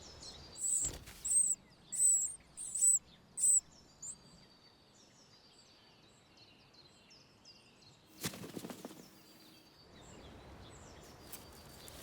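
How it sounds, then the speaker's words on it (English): Great tit chicks in a garden nest box, a run of five or six shrill begging bursts in quick rhythm, then quieter scattered cheeps with a couple of rustling thumps from the box. "Back at the great tit box, the demanding chicks make their intentions quite clear."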